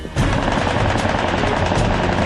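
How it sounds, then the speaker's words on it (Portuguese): Dense, rapid gunfire crackles continuously after a brief quiet start during aerial combat, a sustained loud volley with no pauses. "uma saraivada de tiros é disparada"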